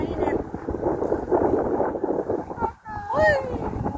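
Strong wind roars against the microphone in a dense, continuous rush, dropping briefly before voices speak over the gusts near the end.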